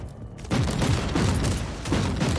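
Melter gun blasts in the video game Warhammer 40,000: Inquisitor - Martyr, a continuous roaring burst of fire starting abruptly after a brief quiet, with rhythmic pulses running loud and close for about two seconds.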